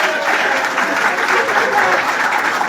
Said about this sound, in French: est-ce qu'on peut applaudir pour Wilfried de Kanga?